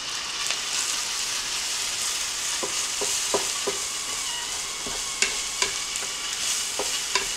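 Chili mac ingredients with a little salt being stirred in a skillet: a constant sizzle under scattered spatula scrapes and clicks, clearer and more frequent toward the end.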